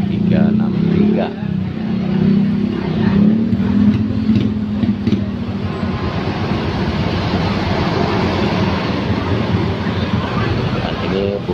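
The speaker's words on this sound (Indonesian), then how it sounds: "Bus Budiman kembali masuk." Budiman tour buses arriving at Pangandaran beach, a loud diesel engine rumble at first fading into broad wind and surf noise, with people talking throughout.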